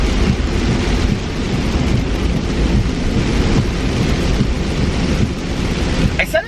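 A nighttime thunderstorm with rain, a loud steady downpour roar with low rumbling throughout, a brief crackle near the end.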